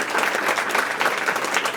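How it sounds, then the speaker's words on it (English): An audience at a tech event applauds the panelists, with steady, even clapping that keeps going at full strength through the short span. "A round of applause for our panelists."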